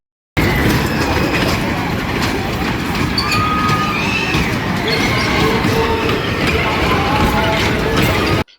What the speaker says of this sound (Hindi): फिर पहुंच गया छुक छुक रेलगाड़ी के पास।